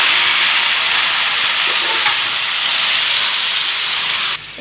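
Water hits a hot pan of raw jackfruit curry and sets off a loud, steady sizzling hiss that continues for several seconds before cutting off near the end.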